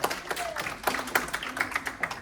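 Scattered hand claps ring out irregularly at a corporate presentation, a small group clapping with uneven rhythm and a bit of murmuring beneath.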